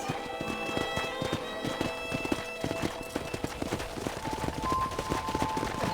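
Horse hooves clip-clopping steadily in the Red Dead Redemption video game, a continuous rhythmic trot with a faint whinny amid ambient game sounds and music.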